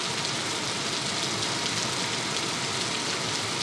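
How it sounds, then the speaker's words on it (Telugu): Heavy afternoon rain pouring steadily under a darkened sky, a dense, even hiss of drops filling the clip from start to finish, close and loud with no voices. "వర్షం పడుతుంది."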